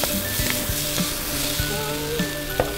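Bread grilling in butter in an electric multi-purpose pan, a close, steady sizzle and crackle with a few faint clicks and taps running throughout.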